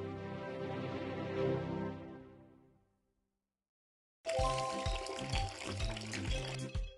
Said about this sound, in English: Pour it to the cup.